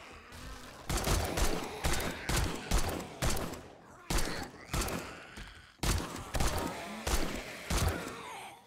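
Gunfire in the survival game 7 Days to Die, a steady series of loud, close gunshots fired one after another at a roughly even pace, each with a sharp crack and short decay.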